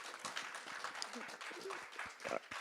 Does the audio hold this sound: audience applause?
yes